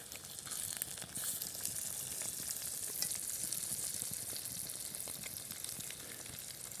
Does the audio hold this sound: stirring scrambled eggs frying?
yes